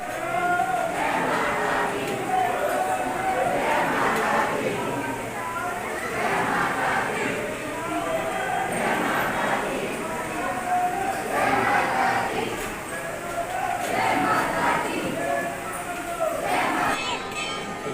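Devotees crowd the Chintpurni temple in a dense, steady murmur of many voices, with scattered louder calls rising and falling throughout, close and continuous.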